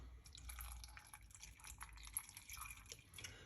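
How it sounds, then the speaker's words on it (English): Water poured into a mango smoothie in a blender or jug, a close, steady trickling with small drips and splashes, fairly quiet and alone without talk. "So we're gonna put some water."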